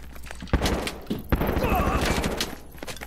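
Gunfire in the online shooter Lost Light: a few sharp shots crack over a busy, noisy game mix, with someone talking over it.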